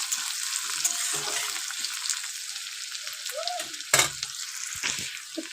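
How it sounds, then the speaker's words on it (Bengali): Chopped onions fry in a pan with a steady, fairly loud sizzle, broken by a few clattering stirs of a spoon. "একটু দিয়ে দেবো কুচানো পেঁয়াজ, দিয়ে খুব ভালো করে ভেজে নেবো কিন্তু"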